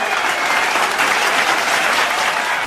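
An audience at a mushaira bursts into dense, steady applause, loud and close, with many hands clapping continuously and no speech.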